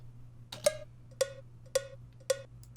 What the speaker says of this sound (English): So let's do a cowbell.